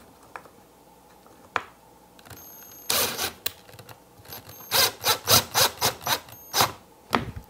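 Longer screws are driven into a wooden armoire, heard as a series of close, rhythmic grinding and creaking turns in short bursts, with quiet gaps and a few sharp knocks in between.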